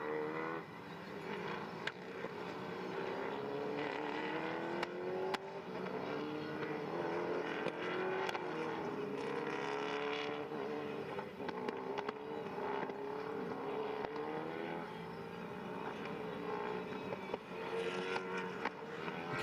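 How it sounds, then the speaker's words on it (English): Endurance prototype race cars circle the starting grid at Paul Ricard, a steady, distant engine drone with rising and falling revs layered from several cars, continuous throughout and fairly quiet. "You can hear the cars making their way around the grid."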